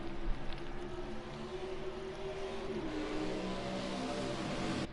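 Stock car engines racing at Daytona in a racing video game: a steady, moderately quiet drone of many engines holding pitch, with a brief sharp click at the very end.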